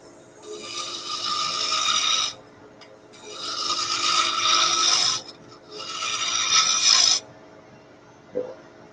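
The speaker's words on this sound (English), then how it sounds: "I got a nice, sharp spindle roughing gouge" A sharp spindle roughing gouge shaves wood spinning on a lathe, giving a loud, close rasping hiss in three sustained passes of a couple of seconds each, with brief pauses and a faint knock at the end.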